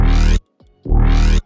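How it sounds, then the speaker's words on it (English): Synth saw wave run through phasing, a low pass filter and a harmonizer, sounded as two loud sustained notes with a sweeping, shimmering phase effect, separated by a brief quiet gap with a faint descending tail. "It's a saw wave with some phasing shenanigans"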